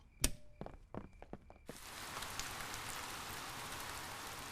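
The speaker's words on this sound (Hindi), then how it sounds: "पूरी रात बारिश होती रही और अब गार्डन बहुत गीला है।" Steady rain falling through the night in a Peppa Pig cartoon, a dense even hiss that starts abruptly after a few soft knocks and taps, continuing alone at a moderate level.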